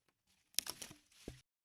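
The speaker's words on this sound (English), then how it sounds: "I had this like stomping on branches sound" A short Foley crunch of feet stomping on branches, a quick crackling snap followed by a softer second crunch, close and quiet, heard alone.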